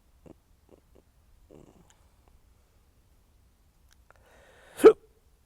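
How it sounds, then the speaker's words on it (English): A person hiccups: a few faint little catches are followed by one sudden, loud hiccup near the end, with quiet between. "get the fucking hiccups here"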